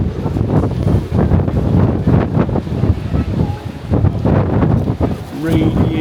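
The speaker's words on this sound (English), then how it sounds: "You can hear the wind howl between those towers." Strong wind gusting and howling between tall towers on a breezy, rainy Sunday along the Benidorm seafront, a steady roar of wind buffeting the microphone with some speech mixed in.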